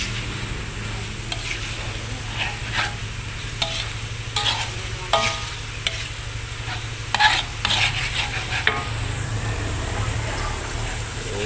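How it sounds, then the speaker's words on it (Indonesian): Beef tendon curry with ground dry spices is stirred in a pan, a spoon scraping and clacking in irregular strokes over a steady sizzle, with a soft voice now and then in the background. "Kita aduk-aduk."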